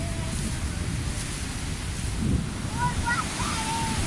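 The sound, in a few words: strong wind in Ireland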